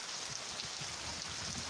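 Steady rain patters down in a soft, even hiss with faint drops ticking on surfaces, alone and fairly quiet throughout.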